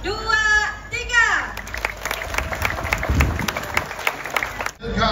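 Loud audience applause and cheering swell at a pageant night show during a festival, with a host speaking over the crowd as the clapping builds and then cuts off.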